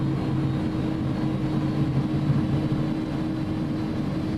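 An Airbus A300 engine spools up in a flight simulator game, a steady, even drone with a low rumble that holds at a constant level throughout.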